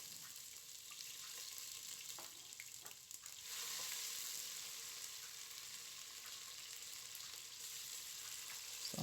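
Onions frying in hot oil in a pot for rice and spinach sauce, giving a faint, even sizzle and hiss that holds steady across the whole stretch with a few soft stirring knocks.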